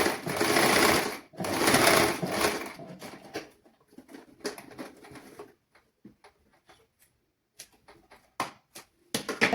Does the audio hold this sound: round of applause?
no